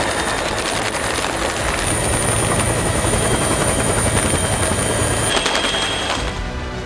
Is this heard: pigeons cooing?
no